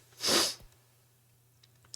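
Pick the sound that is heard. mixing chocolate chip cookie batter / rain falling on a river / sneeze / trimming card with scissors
sneeze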